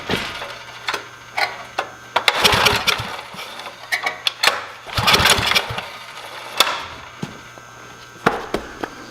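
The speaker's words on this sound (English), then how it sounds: "we got spark and easy pull to start." A generator engine is pull-started ahead of a snowstorm: repeated sharp recoil pulls and brief engine bursts, loud and close, in an uneven rhythm over about nine seconds.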